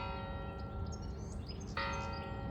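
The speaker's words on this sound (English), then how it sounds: "The monastery bells have been ringing a lot already." Monastery church bells ring at a distance by a roadside in France, a resonant sustained tone with a fresh strike near the end adding brighter overtones.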